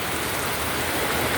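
Heavy rain pours down in a loud, dense, unbroken wash of noise, steady throughout with no voices.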